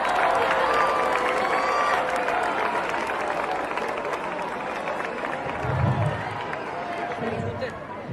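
An audience applauding to welcome a guest at a youth event: a continuous dense wash of clapping and crowd noise, loud and sustained with a few dull thumps, mixed with voices.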